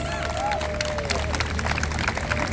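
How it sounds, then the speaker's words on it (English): Crowd at an Auckland Palestine protest rally applauding and cheering steadily throughout, a dense wash of clapping with scattered whistles close by. "Can we give them another big round of applause"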